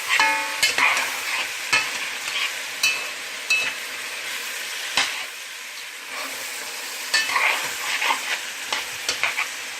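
Onions sauté in a hot pan for an African dish, a steady crackling sizzle with repeated stirring scrapes and light clinks of utensil against pan, close and fairly loud, with no talking.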